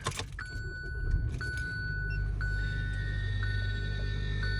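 Car keys jangle and clink near an RV at a campsite, close and clear, over a steady low hum, with repeated short electronic chimes sounding alongside.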